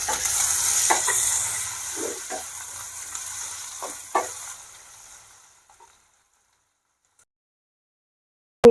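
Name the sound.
onion and grated ginger frying in a pan for dal khichdi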